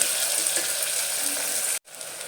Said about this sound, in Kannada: ಈರುಳ್ಳಿನ ಸೇರಿಸ್ಕೊತಾ ಇದ್ದೀನಿ ಹಸಿ ವಾಸನೆ ಹೋಗೋವರೆಗೂ ಚೆನ್ನಾಗಿ ಫ್ರೈ ಮಾಡ್ಕೊಳ್ಳಿ